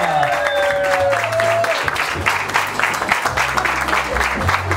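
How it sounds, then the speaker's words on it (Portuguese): Wedding guests break into sustained applause, a dense, steady patter of clapping that carries on over a melodic backing track. "E uma salva de palmas para eles então!"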